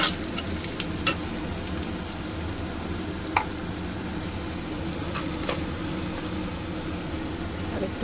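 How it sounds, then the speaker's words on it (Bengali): Garlic and ginger fry in hot oil for a mixed dal, a steady broadband sizzle running the whole time, with a few sharp clicks and pops over the hiss and no talking. "রসুনটা আর আদাটা একটু ভেজে নেব"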